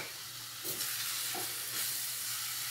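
Zucchini farofa frying in olive oil, a faint steady hiss of sizzling with a couple of soft stirring scrapes.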